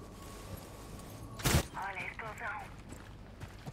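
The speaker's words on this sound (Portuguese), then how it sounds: "Olha a explosão." A single sharp explosion bursts out in a video game match, brief and loud, followed by a person talking.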